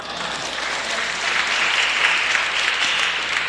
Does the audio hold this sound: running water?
no